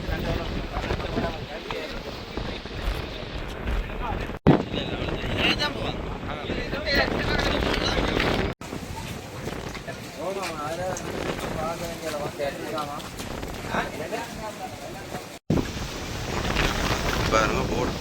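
Strong wind buffets a large launch boat rocking at sea, a loud continuous rumble of wind noise with water sounds underneath, broken by a few brief cuts, while someone talks over it.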